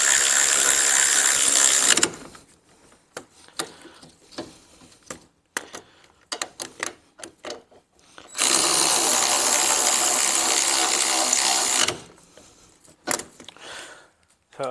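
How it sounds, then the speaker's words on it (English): A cordless battery ratchet whirs loudly in two sustained bursts while fastening rear brake parts on a Ford Transit, with quieter clanks and handling noise between the runs. "So as we put them in with the battery ratchet"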